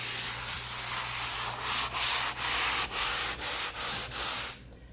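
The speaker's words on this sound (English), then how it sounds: "Time for good sanding." Hand sanding across a butterfly patch, a steady broad rasping scrape broken by a run of rhythmic back-and-forth strokes, close and loud, then stopping abruptly near the end.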